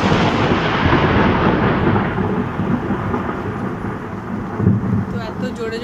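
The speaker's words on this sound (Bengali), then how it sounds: "বেশিরভাগ গজরায় কিন্তু বর্ষায় না" Thunder rumbles loud and deep during a rainstorm in Bangalore, a continuous rolling growl with a swell near the end, rain hissing softly beneath it.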